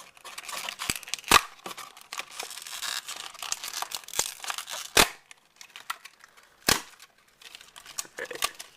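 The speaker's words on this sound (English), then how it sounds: "I just cut the top off here, so pry this open." Stiff plastic blister packaging for Skullcandy earbuds being pried open, with dense crinkling and crackling punctuated by several sharp snaps and pops of the plastic giving way, close and fairly loud, no talking.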